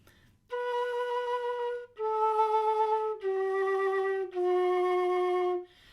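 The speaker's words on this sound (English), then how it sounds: "So finger vibrato sounds like this." Four sustained breathy Irish flute notes, each held about a second and stepping downward, with a gentle shimmering finger vibrato on every note.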